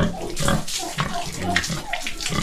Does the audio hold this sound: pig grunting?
yes